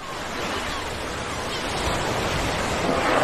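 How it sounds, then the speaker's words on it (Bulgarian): Sea waves wash onto the shore in a Bulgarian TV advert for Burgasko beer, a continuous broad rushing surf that swells slightly louder toward the end, with no talk over it. "Отпусни се. Морето е тук."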